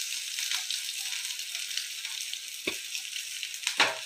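Onion, cumin, green chilli and curry leaves frying in oil in a pan, a soft steady hiss with a couple of distinct spatula scrapes and knocks toward the end, fairly quiet and close, without speech.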